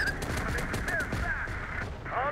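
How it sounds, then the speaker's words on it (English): Gunfire in the military strategy video game Terminator Dark Fate Defiance, a series of quick repeated shots under a busy battle mix with brief tonal chirps and some voice chatter. "Damn, we're taking fire."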